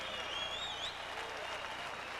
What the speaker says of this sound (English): No matter who the winner is, they both deserve a round of applause.